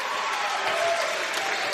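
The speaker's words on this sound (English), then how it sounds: "Crowd goes wild for Mason Bickle." Basketball crowd at a high school game applauding and cheering, a dense steady wash of clapping and voices filling the gym, loud and sustained throughout.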